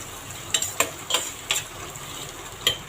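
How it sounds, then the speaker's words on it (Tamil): Onions sautéing in oil in a pan for prawn biryani made with parboiled rice: a steady low sizzle under several sharp scraping stirs of a spoon against the pan, close by and moderately loud. "வெங்காயம் நல்லா வதங்கட்டும்."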